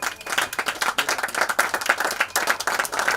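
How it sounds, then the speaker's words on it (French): Loud, sustained applause from a large crowd at a Liberal party first-anniversary event, dense clapping throughout without a break. "Sous vos acclamations, s'il vous plaît."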